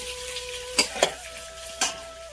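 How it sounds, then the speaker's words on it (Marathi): Potato pieces and green chillies frying in hot oil, a steady low sizzle with a few sharp scraping stirs of a utensil against the pan. "तेल तापले चांगले. मिरच्या टाकलेल्या आहेत आणि ह्याचा बटाटा, थोडासा बटाटा ना तेलामध्ये परतते."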